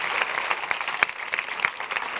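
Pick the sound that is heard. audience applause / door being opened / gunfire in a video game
audience applause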